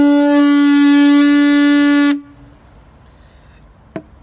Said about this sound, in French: Je propose donc d'écouter un petit peu l'ancêtre des cuivres.